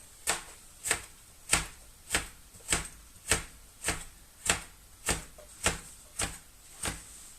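A sharpened kitchen knife chops vegetables for green borscht on a board, about a dozen crisp, evenly spaced strokes at a steady rhythm, close and fairly quiet with no talking.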